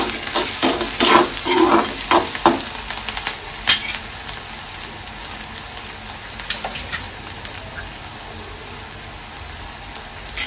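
Onion sizzles in a pan with rice and a little salt, a constant crackling fry with brisk stirring scrapes that are busier at first and then settle into a quieter steady hiss.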